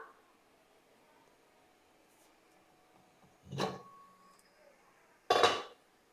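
A metal pot lid comes off after steaming puttu flour from traditional karunkuruvai rice, two separate clanks several seconds apart, the second sharper and louder, in an otherwise quiet kitchen.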